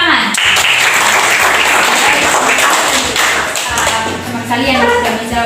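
A classroom of students applauds together in steady, loud, dense clapping that lasts the whole time, with voices underneath.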